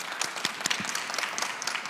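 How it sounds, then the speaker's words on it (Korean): Audience applause at a corporate open innovation talk show panel, a modest, thin patter of scattered claps at moderate distance, fairly light and brief with no voices over it. "박수는 적극적으로 쳐주셔도 괜찮습니다"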